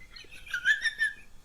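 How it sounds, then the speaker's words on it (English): Birds sing in a quiet country garden, giving a few short, clear chirps and whistled notes at moderate distance against near silence. "the sound of singing birds"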